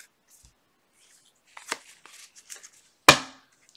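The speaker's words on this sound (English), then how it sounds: "Last shuffle." A deck of tarot cards is shuffled by hand, a scattered run of soft riffling flicks that ends in one sharp, loud snap of the cards, close up in an otherwise quiet room.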